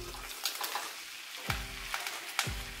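Broccoli stir-frying in a pan with oyster sauce, garlic and a little water, giving a soft steady sizzle with occasional louder stirring clatters near the microphone, no talk.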